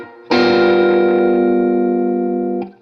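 A single electric guitar G dominant 7th sharp 9 chord, struck once through effects and left ringing with a bright, steady sustain for about two seconds before being cut off.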